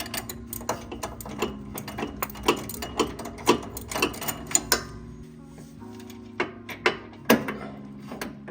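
A ratcheting tool clicks in quick bursts while a part is unscrewed during repair of a crash-damaged Honda Civic Type R FL5, with an uneven rhythm of sharp clicks and short pauses at close range.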